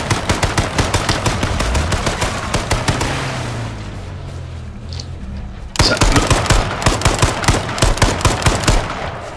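Rapid automatic gunfire in the battle royale video game H1Z1, dense bursts of shots that briefly drop away and then return loud and close, with no clear talk over them.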